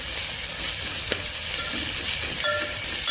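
Ginger, coriander and garlic paste frying in a pan, a steady close sizzle with the scrape of stirring running throughout and a couple of brief spoon taps.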